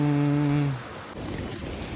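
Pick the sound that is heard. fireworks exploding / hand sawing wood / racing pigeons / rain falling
rain falling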